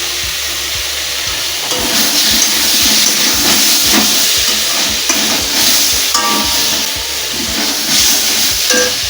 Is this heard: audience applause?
no